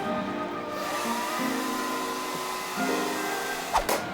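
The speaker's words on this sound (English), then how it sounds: "So hit it with the hair dryer a couple more times just to try to get it a little bit more dry." A hair dryer blows with a constant whooshing roar, its pitch shifting slightly midway, ending with a brief clatter.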